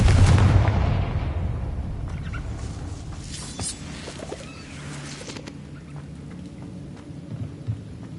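A Confringo fire spell blasts off in Hogwarts Legacy, a loud booming explosion at the start that rolls into a long rumbling decay, with scattered crackles and a small pop near the end.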